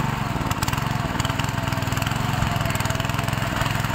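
A tractor ploughs a village field, its engine throbbing in a steady, rapid chug that stays constant and fairly near throughout, with no talking.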